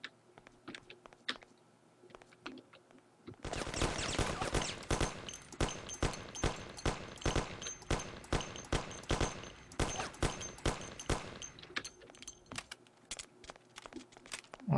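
Sustained bursts of rapid gunfire in the video game Mafia, fired while the character runs, start abruptly after a few quiet seconds and continue as loud, dense volleys with short gaps before easing near the end.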